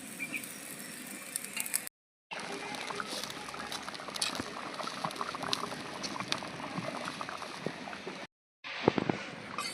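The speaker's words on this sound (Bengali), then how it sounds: "ঝোলটা টকবকিয়ে ফুটে গেছে" Fish curry gravy with potatoes boiling vigorously in a pot, a steady close bubbling and crackling that runs continuously, broken by two brief silent gaps.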